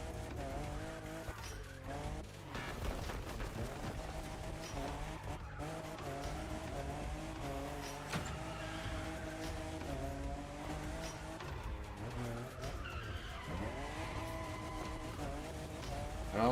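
A Toyota Supra in The Crew Motorfest drives hard, its engine revving and shifting as tires squeal and skid through turns, loud and continuous with game music underneath.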